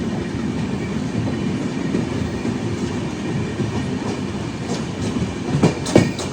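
Mumbai CSMT–Thiruvananthapuram Express rolling slowly near Aluva, past bridge work, with a steady rumble of the carriages and soft wheel clatter, then a few sharper rail clanks and squeaks toward the end.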